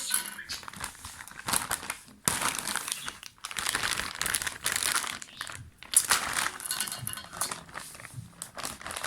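Plastic crinkles and crackles continuously as a bag is handled and torn open up close, with brief pauses between bursts of rustling.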